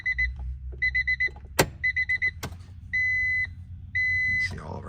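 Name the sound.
1991 Acura NSX being started up, dashboard beeps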